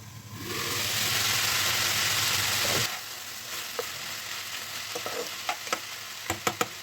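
Onions frying on a medium flame for mutton curry hiss in a loud, steady sizzle for almost three seconds, then drop away, leaving softer clicks and a few sharp taps of a spoon against the pan.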